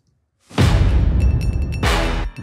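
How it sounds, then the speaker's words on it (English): A transition sweep hit followed by a deep boom: a loud rising swoosh that slams into a heavy low-end impact, with a second hit arriving near the end, all alone without talk. "So we have a sweep hit and a boom."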